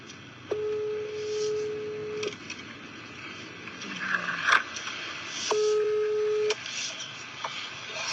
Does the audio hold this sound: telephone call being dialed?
yes